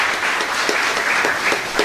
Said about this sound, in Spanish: Un fuerte aplauso para el Señor entonces.